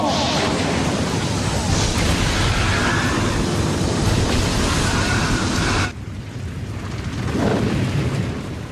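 A cartoon fire-style flame bomb attack roars as a loud, sustained explosive blast of wide rumbling noise. It cuts off abruptly and then swells again more softly.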